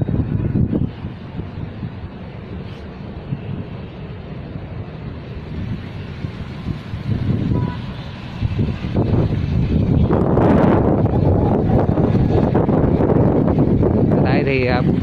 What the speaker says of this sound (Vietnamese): Thì buổi trưa nên là gió rất là nhiều.